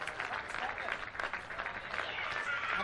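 A partisan South Australian cricket crowd applauds a lofted boundary in a women's WNCL match, steady clapping heard from a distance with no talk over it.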